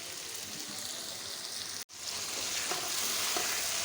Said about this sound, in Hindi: आलू हमारे भुन गए हैं अच्छी तरह से